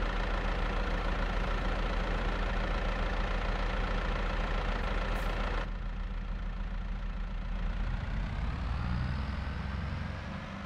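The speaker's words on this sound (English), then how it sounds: "Let me admire the tractor for a second." A tractor engine idles in a farming simulation game, a steady low mechanical drone throughout, with the tone shifting and thinning partway through as the sound changes slightly, and no one speaking.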